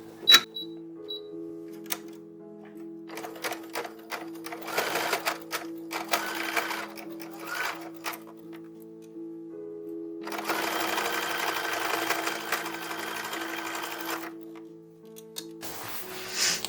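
A sewing machine stitches a 1930s-1940s style toddler dress in short bursts of rapid mechanical whirring, each burst separated by brief pauses, with a longer steady run near the end; quiet and close.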